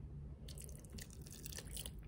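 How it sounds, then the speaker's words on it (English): Water pours and splashes over a gemstone dig kit in a short, faint burst of trickling and dripping that starts after a brief quiet moment, with no voices. "Let's see what it looks like when we pour the water."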